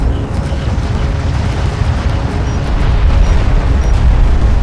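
Explosions rumble around a carrier under attack in the Homeworld: Deserts of Kharak battle, a dense, loud, low roar of continuous blasts without any speech.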